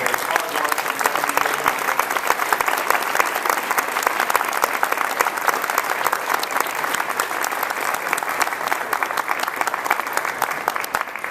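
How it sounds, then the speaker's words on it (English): Sustained, loud audience applause for a band closing a 2012 conference, an even roar of many hands clapping for over ten seconds with no break. "Let's give this band another round of applause for their hard work."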